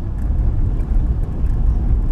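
Car driving along a road, a steady low rumble of engine and road noise, loud and continuous throughout with no speech.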